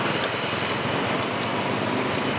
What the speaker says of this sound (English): It's the starter motor hitting the ring gear.